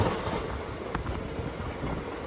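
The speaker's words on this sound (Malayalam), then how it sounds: "ട്രെയിൻ ഇതാ തിരൂർ റെയിൽവേ സ്റ്റേഷനിലേക്ക് എത്തിക്കൊണ്ടിരിക്കുകയാണ്" From inside a sleeper coach of the Tambaram Mangaluru Express pulling into Tirur railway station, a faint, steady rolling rumble of wheels on track continues without a break.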